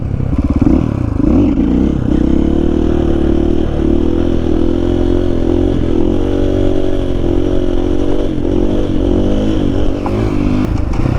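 A Honda XR80 dirt bike with a KTM engine swap roars loud and close through a long wheelie, its engine note wavering as the throttle is worked, with some clatter and no talking.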